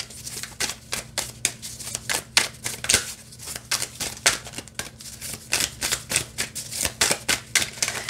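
Tarot deck being shuffled by hand; rapid, crisp card riffles and flicks come in quick bursts with short pauses, close and fairly soft, with a faint low hum underneath and no talk.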